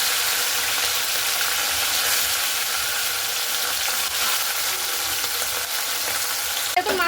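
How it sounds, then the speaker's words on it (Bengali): Small mourola fish frying in hot mustard oil, a dense, loud, close sizzle and bubbling that holds steady throughout, ending with a quick metallic clatter as the pan is handled, no talking. "দেখুন মাছটা কিন্তু খুব ভালো করে ভেজে নিতে হবে"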